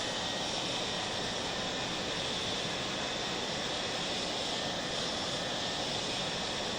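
A Mirage F1 jet in a Cold War air combat video game gives off a steady, unbroken engine roar with airy hiss that holds at an even level throughout, with no talking.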